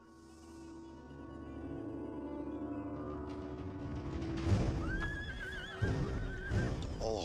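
Horses whinny loudly several times, their high wavering cries rising over a murmuring crowd and rumbling background, with hooves and bustle nearby, as cavalry are ordered to a bridge in a battle scene from the 2014 series Marco Polo.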